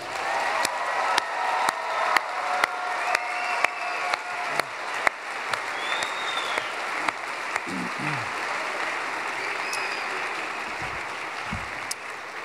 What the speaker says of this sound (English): So let's give our students one more round of applause.